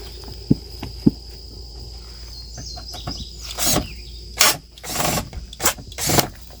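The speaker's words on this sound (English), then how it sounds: "So we're going to go get the screw gun." A screw gun backs screws out of an old board in a garden setting, giving several short whirring bursts between quiet pauses, with faint outdoor birdsong and insect chirps in the background.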